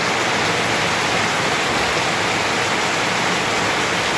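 Heavy rain pours in a storm at a fruit shop in Khola Pota, Basirhat, North 24 Parganas, a loud steady broadband roar with no break and no voices.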